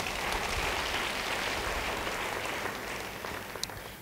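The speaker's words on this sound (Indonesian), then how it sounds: "Yang percaya beri tepuk tangan bagi dia." A church congregation applauds during an Indonesian-language sermon, a thick, even roar of clapping that fills the room and tapers slightly toward the end, heard alone without speech.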